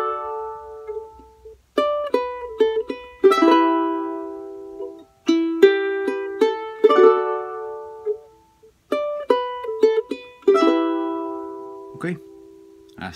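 A charango and guitar play a plucked phrase, in bursts of bright strummed and picked notes separated by short pauses, close and clear with no voices.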